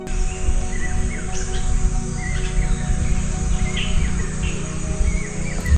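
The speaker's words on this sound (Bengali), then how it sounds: "আর কতগুলো পাখি কিচিরমিচির করছে" Small birds chirp and twitter in scattered short calls, mid-distance, over a steady low hum and faint insect buzz in a quiet forest beside a tribal village in Duarsini, Purulia, on the Bengal-Jharkhand border.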